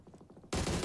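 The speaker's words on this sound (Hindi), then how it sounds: "कुछ गोलियां दागने का प्रयास भी था लेकिन कुछ खास कमाल हुआ नहीं।" Gunfire in a competitive battle royale match between teams. Quick muffled pulses give way to a sudden loud, dense burst of shots.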